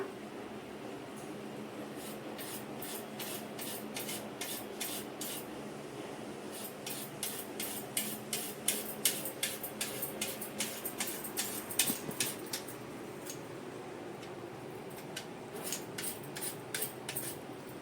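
Potatoes being sliced by hand for homemade chips, heard as runs of rapid, even cutting strokes that come in bursts, quiet but close, over a faint background hum.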